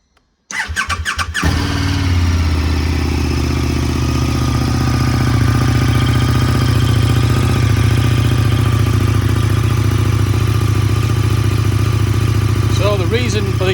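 KTM 1290 Super Duke RR motorcycle with a Spark exhaust cranking briefly with a whirring starter, then catching and settling into a loud, steady, close-up idle that holds to the end.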